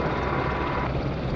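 A Finnair airliner at Madeira Island Airport produces a brief, loud, rumbling engine roar, a broad steady drone heard alone.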